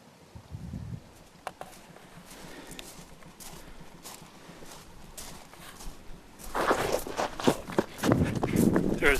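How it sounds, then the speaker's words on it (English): Footsteps running near a bridge: a scattered patter of steps grows into quick, heavy, louder footfalls toward the end, with a murmur of voices underneath. "I can hear footsteps running at me."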